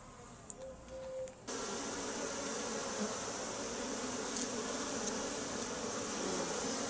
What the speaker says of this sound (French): On voit que les abeilles ramènent pas mal de pollen